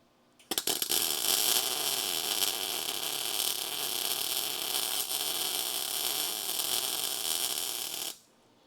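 A MIG plug weld is laid on a Charger crew cab car body during restoration, a few quick starting crackles giving way to a continuous loud, close, hissing buzz for about seven seconds before it stops abruptly.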